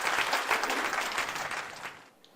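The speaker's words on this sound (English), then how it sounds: "let's give our 3 volunteers a round of applause" An audience applauds three volunteers at a tech keynote, with dense, steady clapping at close range that runs for about two seconds before thinning out and fading.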